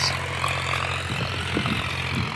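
A tractor dry-ploughing a village farm field sends out a steady, continuous engine drone that stays close and even throughout, with no voices over it.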